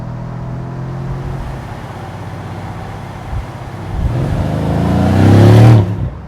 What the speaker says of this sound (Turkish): Yani arkada pata puta çata çuta inanılmaz sesler duyuluyor.